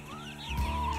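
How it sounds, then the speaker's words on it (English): Large white rooster on an off-grid farm during spring morning chores, making a short rising call that breaks into a louder throaty burst, close by, amid low outdoor background noise. "This here is our trusty rooster."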